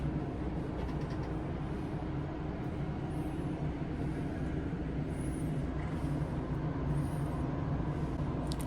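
A Gree Eco-Cool RV rooftop air conditioner gives off a steady, low, fairly quiet rush of airflow with a few faint high chirps above it and no talking.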